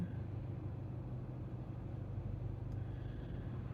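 A car rolls along the road from inside the cabin, a steady low engine and tyre rumble with even road noise and no talking.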